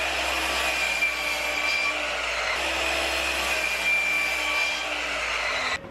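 A power saw cuts a wood cleat piece to length, a steady loud whine with a thin high tone running for nearly six seconds before cutting off abruptly.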